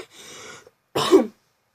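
A single harsh cough burst, preceded by a breathy, raspy exhale, close and fairly loud.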